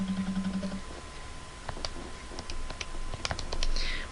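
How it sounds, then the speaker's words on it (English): Numbers punched into a calculator during a geometry lesson: a short run of light, separate clicks of irregular rhythm, close and fairly soft, over a low steady hum with no talking. "I'll type that in my calculator"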